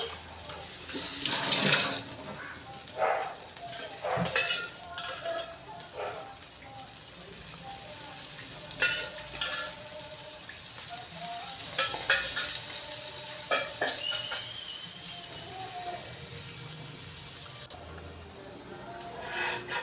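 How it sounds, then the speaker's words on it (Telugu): Rava dosa with onion pieces fries on an oiled griddle, giving a steady sizzle under close, intermittent scraping and clatter from a spatula. Water or tap-like noise runs partway through, and the sounds stay fairly quiet and near without any speech. "కొంచెం ఆయిల్ వేసుకుందాం చుట్టూ"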